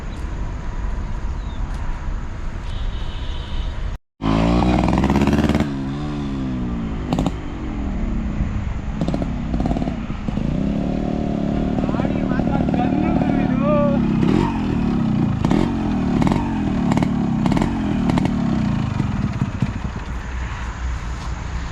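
A restored Yamaha RX100 motorcycle's two-stroke engine runs and revs up and down repeatedly, loud and close, with people talking over it throughout.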